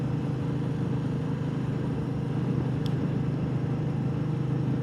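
A Royal Enfield Meteor 350 motorcycle engine chugs along at a gentle, steady low throb on the road, a continuous even drone with no one talking.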